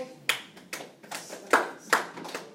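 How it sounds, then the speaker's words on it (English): Scattered hand claps from a few classroom students, about six or seven sharp separate claps spread unevenly over a couple of seconds, close by in a quiet room. "give him a clap, guys"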